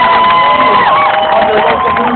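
Dense crowd at an Ottawa protest in solidarity with Gaza cheering and whooping for volunteers, a loud continuous roar of voices with shouts rising above it throughout.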